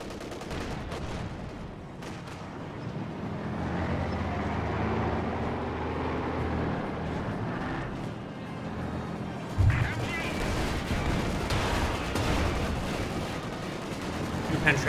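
Tank shells strike a Panzer IV in Company of Heroes 2 amid ongoing battle rumble and scattered gunfire, with a sharp loud impact midway and another near the end.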